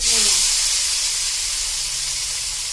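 Chopped tomato dropped into a little hot oil to sauté for ginisang monggo, letting out a loud, continuous close hiss that eases slightly as it goes on.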